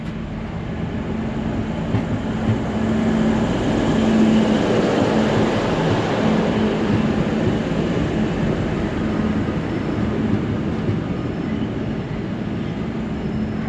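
A train pulls into Newcastle station and comes to a stop in front of the parked Endeavour railcar, making a steady, fairly loud rolling rumble with a faint hum that lasts throughout, and no talking.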